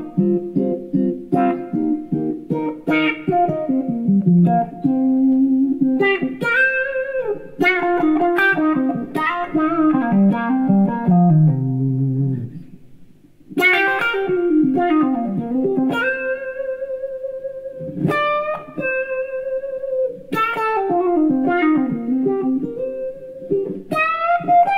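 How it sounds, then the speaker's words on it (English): Electric guitar played through a Klon overdrive into a Q-Tron envelope filter, giving funky wah-like sweeps on each note and chord. The lines are melodic, fairly loud and close, with brief gaps and no talking. "And then the other thing is chucking a clon in front of the Qtron, which sounds like this."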